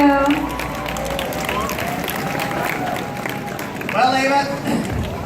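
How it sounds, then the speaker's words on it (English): Audience applause at a Supercon 2018 convention event, crowd clapping and cheering under amplified talk from a host, with a swell of louder clapping toward the end. "A round of applause for Sadie and Michael Broder"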